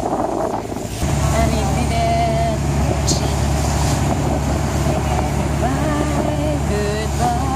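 A speedboat runs on the open sea off Capri and Anacapri, Italy, its engine a steady loud drone that swells after the first second and continues over constant wind buffeting the microphone.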